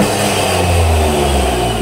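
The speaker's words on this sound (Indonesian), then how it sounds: "Di gas tuh jadi lebih ada bunyi ngencos-ngencos kayak begini." Toyota GR Yaris engine revving with a carbon Kevlar intake fitted, a steady deep engine drone that swells slightly mid-way, heard up close and loud with no talking.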